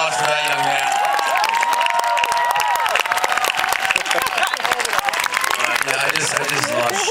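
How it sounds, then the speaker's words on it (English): An audience at a cast and crew event at Hollywood Forever Cemetery applauds a young man, giving a dense, sustained burst of close clapping with some cheering mixed in throughout. "Let's have a round of applause for that young man"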